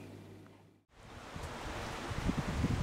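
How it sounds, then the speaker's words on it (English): Strong outdoor wind buffets a Canon LEGRIA FS200 camcorder microphone, a broad roaring rumble that drops out briefly near the start and then returns louder, gusting steadily without speech. "it's very windy today, so if there's a lot of noise, that's why"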